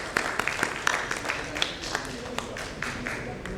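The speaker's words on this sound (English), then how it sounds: "Let's welcome him with a huge round of applause, guys." Attendees at a corporate panel discussion on customer experience in NBFCs and fintech clap to welcome a speaker, with a handful of distinct, uneven claps over a murmuring room, fading toward the end.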